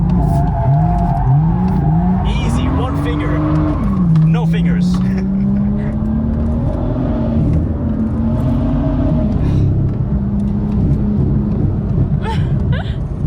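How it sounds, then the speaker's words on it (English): A BMW M2 F87 engine roars while tires squeal in long sliding bursts as the car drifts, with a person speaking excitedly over the noise. "the car instantly goes sideways and destroys those tires"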